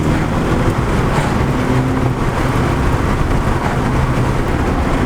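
A Volkswagen Mk6 GTI with aftermarket modifications pulls hard under acceleration on a road in Pennsylvania, a loud, steady engine and road roar lasting throughout with no break.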